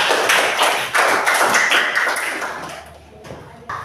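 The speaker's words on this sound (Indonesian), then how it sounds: "tepuk tangan untuk kelompok kita" Pupils in a classroom applaud a group with a burst of quick, sharp hand claps close by, fading and thinning out toward the end.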